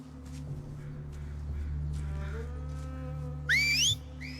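A short rising two-note whistle cuts in near the end, loud and close, after a stretch of low lowing like cattle.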